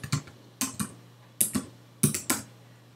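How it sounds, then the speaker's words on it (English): Typing on a computer keyboard with caps lock on, heard as close, crisp clicking keystrokes landing in small clusters of two or three, separated by short pauses, with a faint steady hum underneath. "with the capital locks on my keyboard on, I'm going to type happy"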